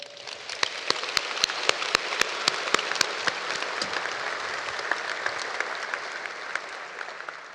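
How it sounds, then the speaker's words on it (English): A university commencement audience claps in a steady wash of applause, with a few sharp, close individual claps standing out early and the whole crowd slowly fading toward the end. "Can we give them a round of applause?"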